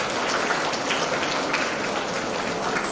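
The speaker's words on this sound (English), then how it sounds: "So round of applause for him." Audience applause at a clinical pharmacy conference, a dense, even clatter of many hands clapping continuously, fairly loud and without speech.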